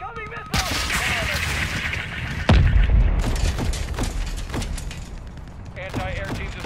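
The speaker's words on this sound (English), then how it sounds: "We've got an incoming missile!" Explosions and gunfire in the 2022 Call of Duty: Modern Warfare II campaign, with steady rattling fire, a heavy blast near the middle and continued shots and impacts, all loud and close, with shouted voices over the battle.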